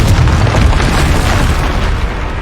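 Loud, sustained blast of a Confringo explosion spell in the Hogwarts Legacy video game, a heavy low boom rolling continuously through the whole stretch with crackling noise on top and no voices.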